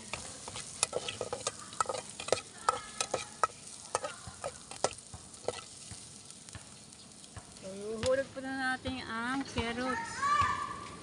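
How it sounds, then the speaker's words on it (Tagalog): Onion and garlic sautéing in a pan for lumpiang gulay, a low sizzle with repeated sharp clacks of stirring, then children's voices chattering in the background toward the end. "kailangan mapulpul natin konting ating sibuyas saka bawang"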